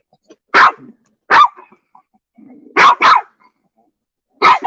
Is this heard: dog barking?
yes